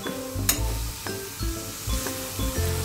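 Garlic, ginger and white pepper powder are stirred in a hot pan, with soft sizzling under a series of distinct scraping strokes and a sharp clink against the pan near the start; no speech.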